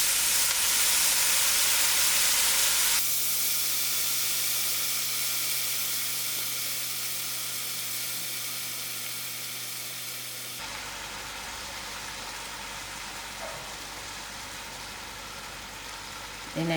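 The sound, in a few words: cabbage sizzling as it is added to the stew pot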